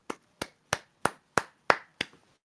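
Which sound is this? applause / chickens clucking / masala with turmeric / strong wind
applause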